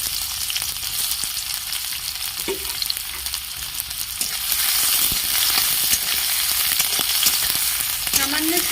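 Chopped garlic and onion frying in a little white cooking oil for a vegetable egg noodle dish, a steady broadband sizzle throughout that grows louder partway in, with occasional stirring scrapes, no talk.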